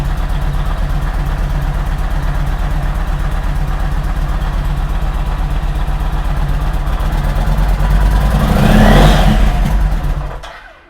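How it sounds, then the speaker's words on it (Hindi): A Yamaha MT-01 V-twin motorcycle engine idles steadily with a deep, throbbing pulse, then rises into a brief rev near the end before cutting off; close and loud, with no talk. "V-twin engine. We'll let it warm up for a bit and I'll rev it a little bit"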